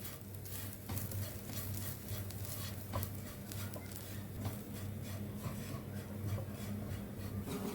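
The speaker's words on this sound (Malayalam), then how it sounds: "പൊടികളൊക്കെ ചേർത്തതിന് ശേഷം ഒരു 6-7 മിനിറ്റ് ലോ ഫ്ലെയിമിൽ വെച്ചിട്ട് ഇത് വറുത്തെടുത്താൽ മതി" Turmeric, coriander and asafoetida powders roast in a pan over low flame, stirred with a steady scraping and soft sizzle, close and fairly quiet, with no talking.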